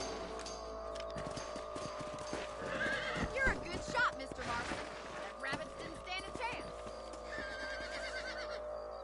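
Horse neighs and whinnies with clip-clopping hooves in the Red Dead Redemption western video game, several calls spread across the clip over a busy in-game background with voices talking.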